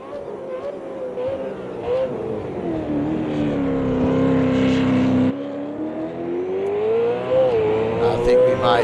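A race car on a lap of the Adelaide 500 street circuit in 2022, a loud continuous onboard engine note rising and falling with shifts and revs, a brief break midway, heard from inside the car.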